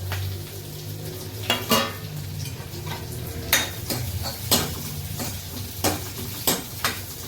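Chopped onions fry in a pan while being stirred for a gobi manchurian dish, a steady sizzle under repeated scraping and clinking of a spoon against the metal pan, close and fairly loud, with no talk.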